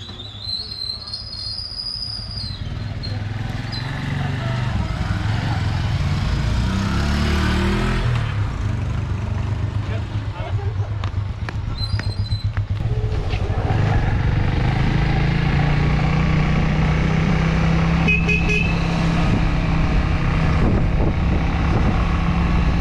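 A motorbike engine runs continuously and loudly on a road near Naugaonkhal, a steady close rumble with some higher mechanical whine early on, lasting the whole stretch without speech.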